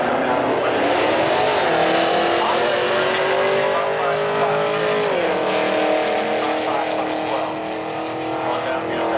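Street-modified drag racing cars, including a Camaro, launching down the strip at an Etown drag race, loud engines revving and climbing in pitch with a gear-shift drop midway, close and powerful, with faint crowd or announcer noise.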